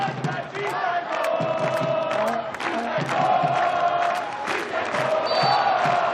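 An indoor hockey World Cup semifinal crowd between Germany and the Netherlands roars and cheers loudly, with shouts, whoops and horns rising in waves through the arena as commentary voices run underneath.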